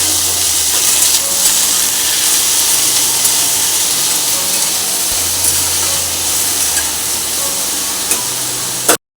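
Okra, potatoes, onion and chili fry in a pan with a steady, loud sizzle and hiss that runs almost unbroken, with faint clinks here and there and no voices.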